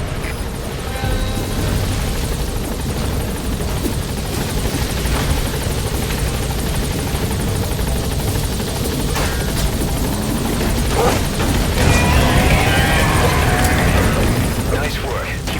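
Helicopter rotor chop and turbine roar as a chopper touches down in the stealth-action game Metal Gear Solid V: The Phantom Pain, a loud steady wash of blade noise with voices talking over it throughout.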